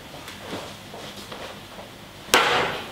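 An iPad is slammed down onto a surface to swat a fly, giving one sudden, loud smack after a few seconds of quiet room noise.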